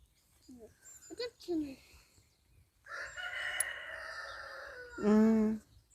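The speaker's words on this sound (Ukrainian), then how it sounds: "Півники співають." Several roosters crow one after another, a few short calls followed by a long drawn-out crow and then a loud nearby one.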